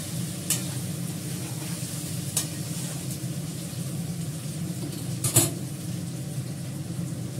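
Kashmiri chilli powder sizzles in a hot pan with a steady low frying hiss, while a spoon scrapes and taps against the pan a few times.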